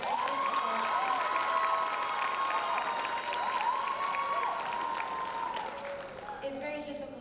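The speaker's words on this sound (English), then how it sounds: "Let's give her another round of applause." An audience at an arangetram dance debut applauds and cheers, a steady roar of clapping with high whoops and voices rising over it, continuing throughout before thinning at the end.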